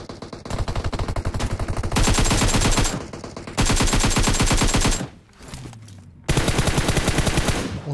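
Rapid automatic gunfire from PUBG Mobile, loud and close, in several sustained bursts with brief pauses between them, the heaviest volleys sounding like overlapping fusillades from multiple weapons.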